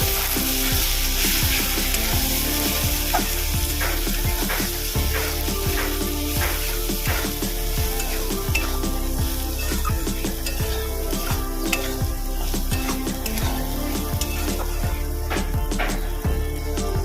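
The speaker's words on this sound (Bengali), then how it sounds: "মশলাটা ভালো করে কষিয়ে নেব" A spice masala of salt, turmeric and chili powder sautéing in a pan for fish roe bhuna: loud continuous sizzling with rapid, rhythmic spatula scrapes and stirs throughout.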